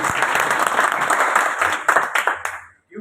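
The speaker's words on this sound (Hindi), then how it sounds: "अपने लिए तालियां हो जाए एक बार फिर।" Audience applause at a talk on biofertilizers and saving the earth, a full burst of clapping from a crowd that tapers off and fades out near the end.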